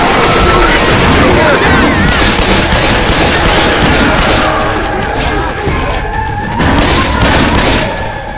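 Heavy gunfire in the zombie shooter game Left 4 Dead 2 on the Hard Rain campaign: continuous loud automatic bursts and booming shots fill the whole stretch, with shouted voices mixed underneath.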